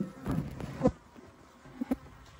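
Honey bees droning in a hive left queenless during a spring split, a faint continuous buzz with a few soft bumps and knocks, no voices present.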